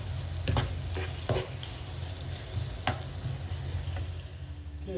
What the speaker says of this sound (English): Now at this time, fry it slowly, okay?